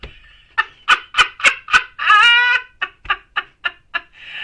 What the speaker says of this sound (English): And you've got 2 roosters.